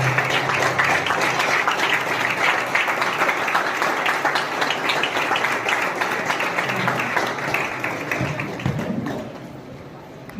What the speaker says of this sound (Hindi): प्लीज जोरदार तालियां बजाइए